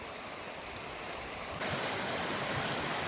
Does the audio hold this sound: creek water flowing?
yes